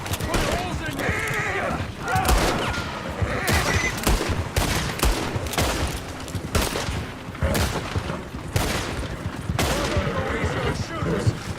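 Gunfire rattles through a firefight in the video game Red Dead, dense rapid volleys with heavy booms over a steady bed of game sound, while people talk excitedly over the shooting.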